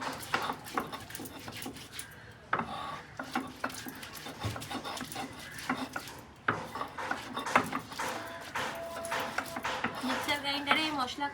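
Spice paste is ground by hand on a stone sil-pata, giving a steady rough scraping and rubbing with repeated strokes, close by, while a person talks over it.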